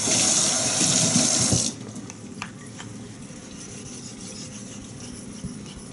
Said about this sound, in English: this is the Sharpening slurry making. Chosera 3000.